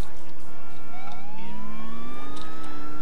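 A police car siren in GTA IV wails loudly and close, rising in a steady sweep over engine rumble.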